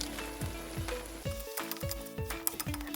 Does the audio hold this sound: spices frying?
yes